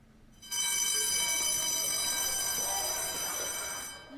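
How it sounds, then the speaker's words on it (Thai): A loud, continuous electric school emergency alarm bell rings steadily for several seconds, starting abruptly and fading slightly at the end, with no talking. "ทันทีที่ได้ยินเสียงกริ่งสัญญาณเตือนภัยติดต่อกัน 3 ครั้ง"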